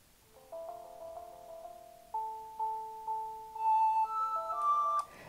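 A Siemens C60 mobile phone from 2003 plays its X-Files message tone, a thin electronic ringtone melody of sustained beeping notes that steps upward and grows louder near the end, heard alone.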